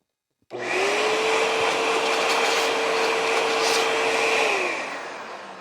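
A Hoover Elite Rewind Plus vacuum cleaner with weak suction switches on and runs with a steady, close whine and airflow roar for about four seconds, then winds down.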